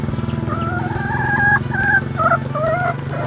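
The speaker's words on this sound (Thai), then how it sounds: "ไก่กำลังกินอาหารนะครับผม" Several chickens kept in a backyard coop made from old welded drums, clucking and calling steadily and close by in mid-morning while they feed, with no talk.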